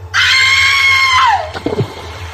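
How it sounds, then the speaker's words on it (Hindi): A woman's terrible scream as she falls into a well, a loud, high, sustained shriek lasting about a second that bends downward and breaks off into a few short gasping cries. "एक भयानक चीख के साथ वो उस कुएं में गिर गई।"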